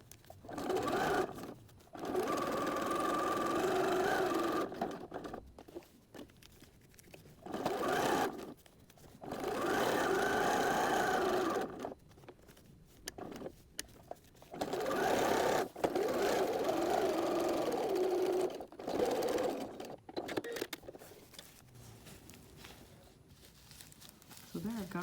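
A domestic sewing machine stitching a small fabric snack bag at a slightly longer stitch length, running in several loud sustained bursts separated by short pauses, close up.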